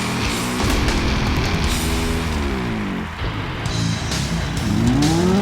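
Race cars roar loudly in a Gran Turismo race, engines rising and falling in pitch through gear shifts, with tires squealing near the end.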